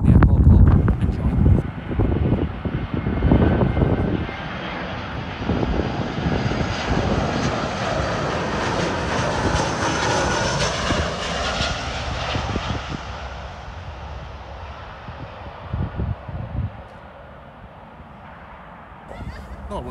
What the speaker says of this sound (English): But here it is, the final landing from the airport.